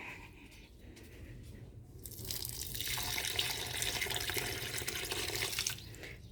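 Water runs and splashes steadily onto a tulsi plant in its pot, starting quietly and swelling into a fuller, continuous pour before stopping near the end; no one speaks.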